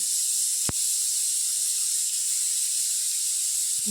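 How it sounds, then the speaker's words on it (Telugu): Mustard seeds, urad dal and chana dal sizzle in plenty of hot oil, a steady loud hiss that runs throughout with one sharp click near the start and no talking. "కొంచెం ఆయిల్ ఎక్కువే పడుతుందండి దీనికి ఆవాలు మినపగేడలు శనగబెళ్ళు"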